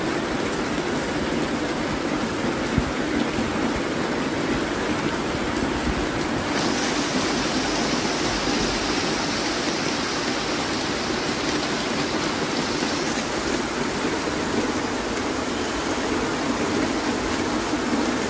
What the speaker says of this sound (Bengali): বেলা 1টার সময় এইরকম ব্যাপকভাবে বৃষ্টি হচ্ছে।